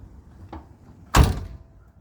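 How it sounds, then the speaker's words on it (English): A single heavy, solid door slam on a 1960 DeSoto Adventurer two-door hardtop, close and loud, preceded by a faint click of the handle. "Listen to how solid this door is. Just listen."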